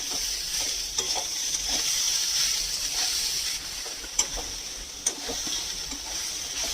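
Sliced banana stem with salt, turmeric, cumin powder and green chillies fries lightly in a pan, giving a steady soft sizzle with a few sharp clicks of a utensil against the pan.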